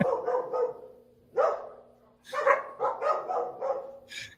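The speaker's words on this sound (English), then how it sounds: "It's paying attention to the dogs, trying to figure out where they were coming from." Several dogs bark in short bursts at a pheasant-hunting team drawing event, repeated yips and barks at moderate distance with gaps between them, mixed with some indistinct voices.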